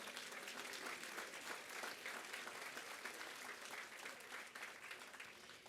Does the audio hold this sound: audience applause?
yes